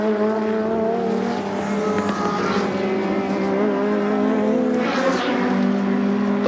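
Australian Touring Car Championship race cars at Symmons Plains circuit in 1989, loud engines roaring and shifting pitch as they rev through corners, with tire squeal and the sound rising as cars pass close by.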